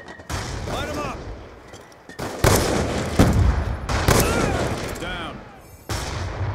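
Gunfire aimed at a sniper in the video game Black Ops 2 crackles in several loud automatic bursts separated by short gaps, close and heavy, with in-game voices talking underneath.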